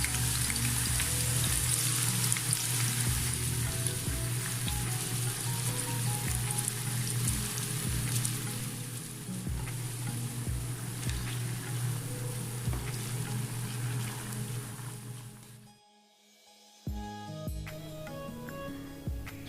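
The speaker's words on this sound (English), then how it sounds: "When it's hot, add onion and cook it for about 7 to 10 minutes." Onion frying in hot oil in a pan over a medium-high flame makes a loud, dense sizzle with scattered crackles and stirring, which cuts off abruptly near the end before some quieter clatter.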